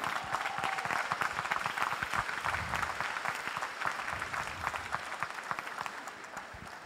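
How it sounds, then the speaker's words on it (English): An audience at a school live event gives steady, dense applause for first-generation college students, a continuous wash of many hands clapping that fades slightly toward the end, with no talking over it. "Yeah, applaud for them."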